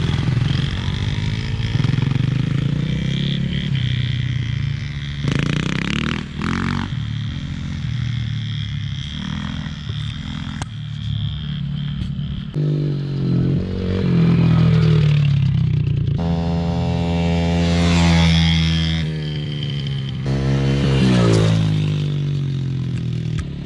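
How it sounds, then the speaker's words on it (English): A motorbike engine drones and revs loudly throughout, its pitch rising and falling as it rides, with clattering and scraping mixed in. "Yep, motorbike riding."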